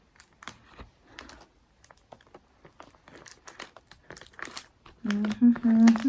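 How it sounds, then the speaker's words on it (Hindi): Cello tape is pulled, torn and pressed down to secure a paper vision board, making sharp, sticky crackles and rips in scattered bursts, then a voice speaks near the end. "so that's why I am securing it with a cello tape"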